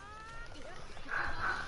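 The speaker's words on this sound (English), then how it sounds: "My dog is barking." A dog yips and whimpers faintly in the background for a moment, under a steady hum of room noise.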